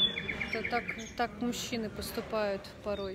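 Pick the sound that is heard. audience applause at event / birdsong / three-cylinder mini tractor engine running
birdsong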